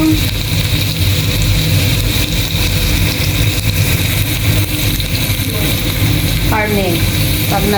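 Food fries in hot oil until golden brown, a loud, steady, dense sizzle running throughout at close range, with a faint background voice near the end.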